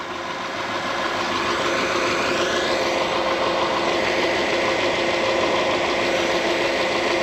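A cheap auction Subaru Outback engine runs with a rough, steady drone that swells slightly as it is revved, loud and close, with faint knocking-like texture and no talking.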